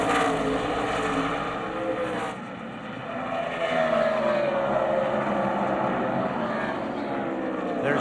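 NASCAR stock cars race at Phoenix, a loud continuous engine roar from several cars with pitch sweeps as they pass, while commentators talk over the noise throughout.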